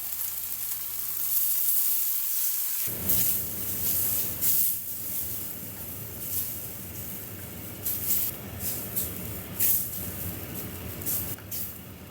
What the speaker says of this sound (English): Slowly stir in our beef broth.